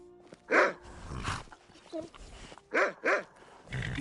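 A dog in the video game Skyrim barks several times in short bursts, fairly close, with game ambience and a speaking voice in between.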